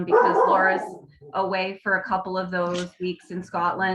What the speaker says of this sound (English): sorry for the dog in the background